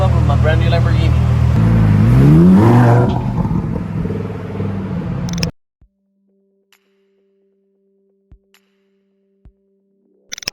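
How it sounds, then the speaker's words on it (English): A Lamborghini rumbles loudly for about five seconds as it pulls up, the engine climbing in a rev around the two-second mark before cutting off abruptly, leaving near silence broken by a few faint clicks. "I'm gonna pull up with my brand new Lamborghini"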